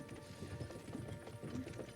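Horse hooves clip-clop steadily in the medieval world of Kingdom Come: Deliverance II, a continuous rhythmic trotting at moderate distance under a low rumble, with no talk over it.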